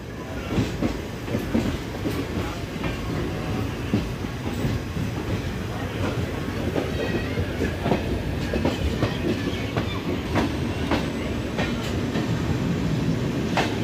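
Passenger train 04756 from Shri Ganganagar to Bathinda via Hanumangarh rolls along with a loud, continuous rumble and steady rhythmic clacking of wheels over rail joints.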